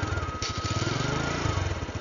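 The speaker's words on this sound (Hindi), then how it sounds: "तो बाइक हो चुकी है ऑन" Motorcycle engine idling steadily right after being started on a mountain outing, a continuous low rumble with a faint whine, close and alone with no talk.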